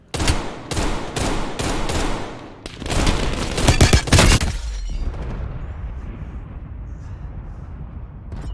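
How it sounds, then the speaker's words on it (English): Gunfire and booming artillery in the video game Call of Duty: Black Ops Cold War: loud rapid bursts of shots and heavy impacts for about five seconds, then fading to a low rumbling aftermath. "Netball, incoming artillery. Dropping on your grid"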